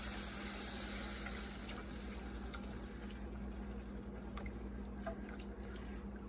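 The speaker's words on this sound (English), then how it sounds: "I'm gonna go ahead and put my milk in first before my heavy cream" Whole milk poured into a flour mixture during home cooking, a steady wet splashing pour with faint drips over a constant background hum, with no talking.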